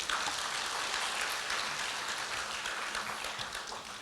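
Dense, steady applause fills a university graduation ceremony hall, a continuous wash of many hands clapping at even loudness for the whole stretch, with no voices over it.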